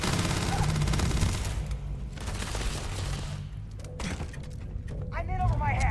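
Starfield gunfire crackles in rapid, dense volleys, loud and close, easing briefly before more shots and impacts near the end, with someone talking over the fighting.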